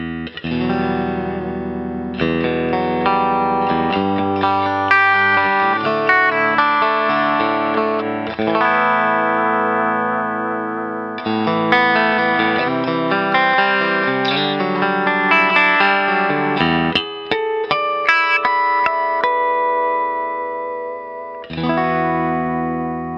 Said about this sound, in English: I'm going to play through some of the single coil sounds here and do some arpeggiated stuff